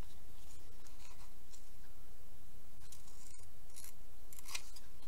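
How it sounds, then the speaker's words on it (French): Scissors snip through craft stickers for stamp embellishments, giving a few quiet, crisp cuts spaced apart over a soft room background. "Pas très habile avec un ciseau, moi."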